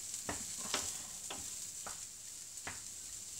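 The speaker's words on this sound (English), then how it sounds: "Give that a stir in." A spoon stirs low-fat salad cheese into a risotto warming in a pan, giving soft scraping strokes about once every half second over a faint steady sizzle.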